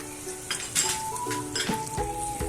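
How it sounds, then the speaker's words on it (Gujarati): Soft dates sizzle in hot ghee for khajur rolls, with a low close frying hiss, a few light utensil clinks and brief stirring scrapes against the pan. "હવે આપણું ઘી ગરમ થઈ ગયું છે. હવે આપણે એમાં ખજૂર એડ કરીશું."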